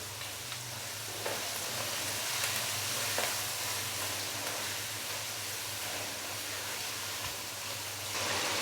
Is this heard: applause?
no